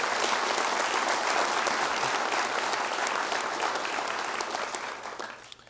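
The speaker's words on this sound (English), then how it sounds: "One more big round of applause for the Cross Country Dream Team 2012." A large indoor audience at a fall sports awards ceremony claps in a dense, steady round of applause for a cross country team, holding loud and even before tapering off at the end.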